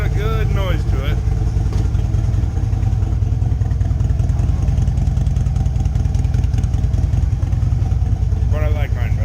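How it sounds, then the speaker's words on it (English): A neighbor's motorcycle idles close by with a loud, steady, throbbing exhaust rumble lasting the whole stretch, while brief whirring squeals rise and fall near the start and end. "Neighbor's bike's got a good noise to it."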